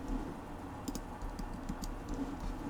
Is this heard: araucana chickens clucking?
no